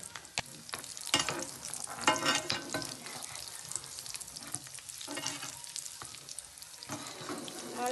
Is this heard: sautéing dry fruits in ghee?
yes